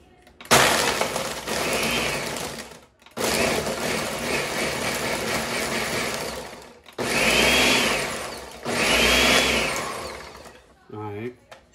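A blender whirs loudly in several long bursts, crunching and grinding through ice and ice cream for a milkshake, with short pauses between runs.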